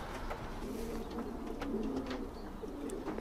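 A Jansen-line racing pigeon coos softly and continuously at close range over a low hum, with faint chirps from other birds nearby.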